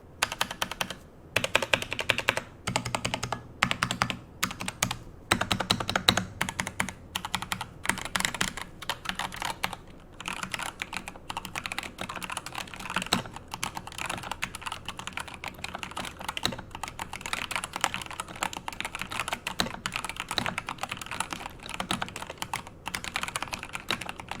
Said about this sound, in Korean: 게이트런 황축은 제가 리뷰를 많이 했지만 우선 타건음 듣고 오시죠